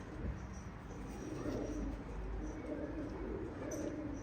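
Pigeons coo softly and continuously in a low, murmuring drone, faint and close, with no clear speech over it.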